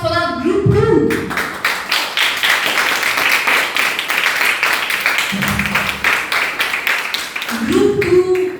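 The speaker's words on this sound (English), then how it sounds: "Huge round of applause for our Group 2." Students clap in a classroom auditorium. Dense applause builds after a voice, holds steady for several seconds, and fades as she speaks again at the end.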